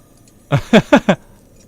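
Mr. Bigglesworth, the cat in the Hearthstone card game, gives a short sound when hovered over: four quick, loud, harmonic bursts in a row, like a cat's angry yowl.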